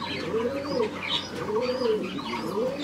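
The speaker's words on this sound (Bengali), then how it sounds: "এটা মাদি পায়রা" A female pet pigeon coos in three slow, swelling rolls spaced about a second apart, close and clear, with a low murmur of other birds behind and no speech.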